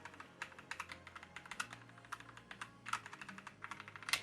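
Keys pressed on a budget mechanical keyboard, a Gamdias E2 TKL or Marvo KG962, giving crisp, close clacks in an irregular typing rhythm, some in quick bursts, with no voices.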